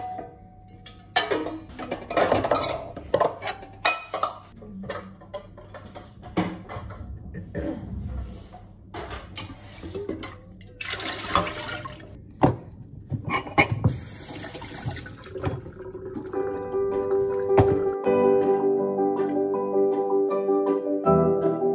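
Dishes, pots and pans being washed at a kitchen sink, with running tap water, splashing and clinks of utensils throughout, the flow steadying into a continuous stream near the end.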